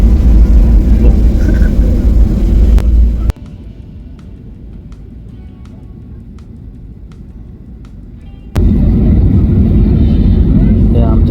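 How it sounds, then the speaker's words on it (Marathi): Inside an airliner descending to land at Amsterdam, the cabin fills with a loud, steady engine rumble that suddenly drops to a quieter hum for several seconds and then surges back. "लँड व्हायच्या तयारीत राहा विमान बरंच खाली आलं आता"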